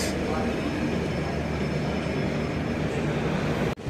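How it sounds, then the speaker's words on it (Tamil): The Madurai–Bikaner full AC express pulls out of the station, a loud, continuous rumble and rolling roar that holds steady before cutting off sharply near the end. "ஷார்ப்பாக கிளம்பிட்டான் Madurai Bikaner full AC express."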